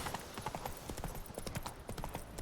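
Horse hooves clip-clop steadily in The Witcher 3, a continuous rhythmic trot of close, moderately loud hoofbeats with no talking over them.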